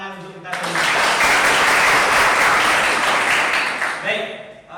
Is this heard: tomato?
no